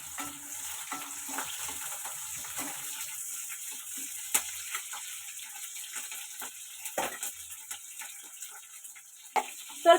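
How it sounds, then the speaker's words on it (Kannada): Onions sizzle in hot oil for chicken biryani on a low flame, a steady close frying hiss with occasional pops and a few stirring scrapes. "ಈರುಳ್ಳಿ ಹಾಕ್ಬಿಟ್ಟು 1-2 ನಿಮಿಷ ಫ್ರೈ ಮಾಡ್ಕೊಳ್ಳೋಣ"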